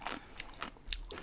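Crisp crunching bites into fresh pickled food with a sweetish marinade, several close, quick bursts of crunch and chewing spaced through a short moment, heard alone without talk.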